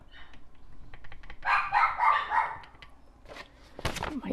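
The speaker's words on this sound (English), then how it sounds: "My dogs, they must hear something or see something, or they are barking away." Several dogs bark in a lively cluster at mid-distance, with faint tapping and handling noises close by during a crafting session.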